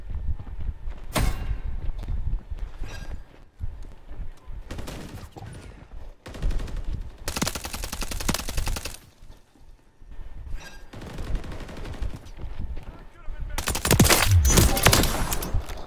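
Suppressed UMP submachine gun in Call of Duty firing in several rapid bursts, loud and close, with pauses between volleys and a heavier burst near the end.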